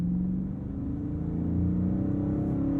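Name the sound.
Chrysler 300C engine accelerating as throttle is applied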